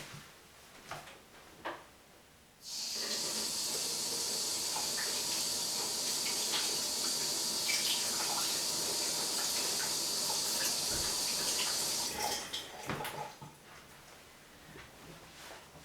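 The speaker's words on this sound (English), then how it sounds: "Now you will hear some running water." A tap turns on and water runs steadily for about ten seconds with a bright hiss, then shuts off; a few soft clatters come before and after.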